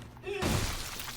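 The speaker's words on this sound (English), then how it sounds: "even these guys must be smashed to bits" Enemies in the Dead Space 2 video game get smashed apart with a sudden loud, crunching, shattering burst that follows a quieter lead-in and trails off into a wash of debris-like noise.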